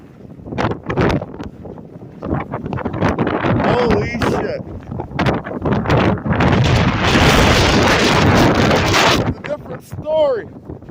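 Blizzard wind from the Christmas Blizzard of 2022 (Elliot), roaring and buffeting the microphone in loud continuous gusts that swell and ease, with a voice talking through parts of it.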